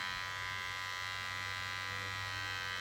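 A Remington HC500 Easy Fade electric hair clipper buzzes steadily and close, a constant motor whine with no pauses or voices.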